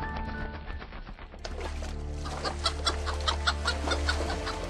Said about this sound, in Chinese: 你家的黑母鸡这是疯了吗？